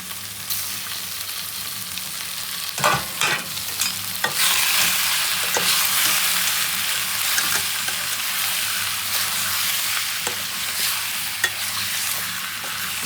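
Washed chicken pieces go into hot oil with ginger paste and turmeric for a simple home-style chicken curry, setting off a loud burst of sizzling that settles into a steady close fry, punctuated by repeated clacks and scrapes of stirring.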